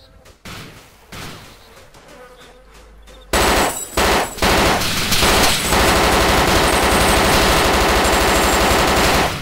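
Sustained machine gun fire in DayZ, a dense continuous automatic burst that starts after a few scattered shots and quieter gameplay sounds, loud and close.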